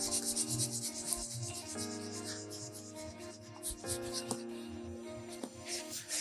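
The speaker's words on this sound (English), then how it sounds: "take this little sponge that comes with the healing balm, and you're just going to pass it over the whole thing, trying to rub in that excess" A small sponge rubs healing balm over a leather bag in steady back-and-forth strokes, giving a soft, close scuffing sound that continues throughout with no speech.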